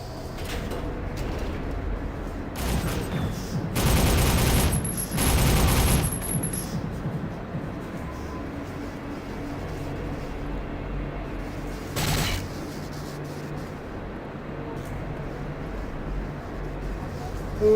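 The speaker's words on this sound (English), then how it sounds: "Who that shooting at me now?" Bursts of gunfire in the PC shooter Soldier of Fortune, with heavy sustained volleys around the middle and a shorter burst later, over constant game background noise.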